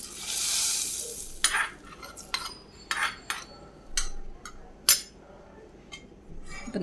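Garlic fried in butter poured into spinach soup: a brief hiss of hot fat at first, then a series of separate clinks and scrapes of a spoon and pan, close and fairly quiet.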